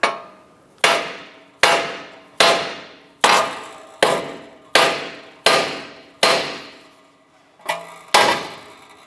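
Hammer blows ring out against the steering knuckle of a 2004-2008 Acura TL to pop loose the outer tie rod: about ten loud, evenly spaced metallic strikes, each with a bright ringing decay, close and with no talking.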